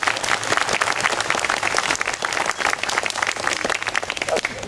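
An audience applauds at a library dedication event after a grant announcement, with dense, steady clapping from a sizeable crowd lasting several seconds at moderate distance.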